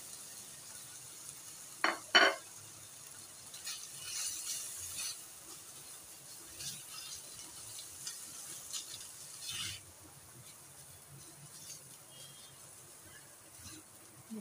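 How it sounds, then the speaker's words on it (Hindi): Spices fry in a pan for a spicy Chinese roll. A soft, steady sizzle runs throughout, broken early by a couple of sharp utensil clatters and some faint stirring scrapes. "मसाले को अच्छी तरीके से हमने भून देना है"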